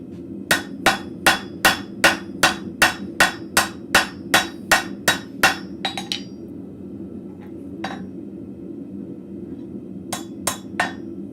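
Forged arrowheads are hammered on the corner of an anvil: a quick, even series of about a dozen loud ringing metallic strikes, then scattered lighter taps and a short final burst of three blows.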